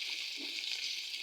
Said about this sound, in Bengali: ভালোভাবে ভেজে নিচ্ছি।